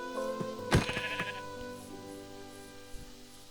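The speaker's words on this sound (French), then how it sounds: "Petit mouton, t'es là." A single loud sheep bleat rises sharply near the start, then trails off as softer background sounds continue.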